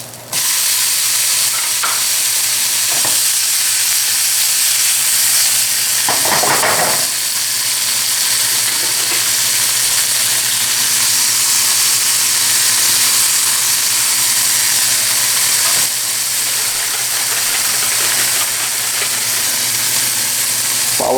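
Onion and peppers fry in a pan for an omelette with a steady, close sizzle and hiss throughout, broken by a few stirring scrapes and clinks and no talking.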